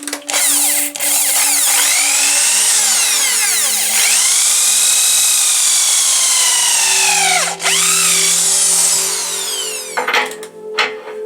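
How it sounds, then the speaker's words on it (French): A power drill bores a hole into the centre of a sweetgum bowl blank mounted on a wood lathe, a loud, steady whine that holds for about ten seconds with a brief dip midway, then stops in a few short bursts. "Alors je vais percer au milieu."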